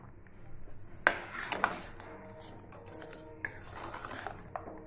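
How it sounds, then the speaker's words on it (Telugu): A spoon stirs cardamom powder and camphor into sweet chakkara pongal in a pot, with a few sharp metallic clinks and scrapes over a soft, steady background. "ఎన్ని వేసుకొని ఒకసారి బాగా కలుపుకోవాలి."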